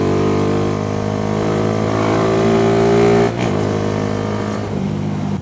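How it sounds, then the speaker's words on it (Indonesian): A car engine revs loud and close during an upshift with rev matching. The droning tone climbs, dips briefly at the shift, then carries on steadily. "Upshift dengan rev match."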